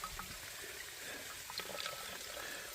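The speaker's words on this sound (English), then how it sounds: "I squeeze the dirty water through the filter. The filtered water goes in my drinking bottle." Dirty water squeezed through a handheld filter into a drinking bottle outdoors, a faint steady trickle and light splashing stream, close but quiet with no talking.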